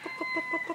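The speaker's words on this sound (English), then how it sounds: "one of the finest crowing cocks in Belgium" A prize crowing cock, one of Belgium's finest, clucks and calls in a short burst of about five evenly spaced notes, close and clear over a faint steady hum.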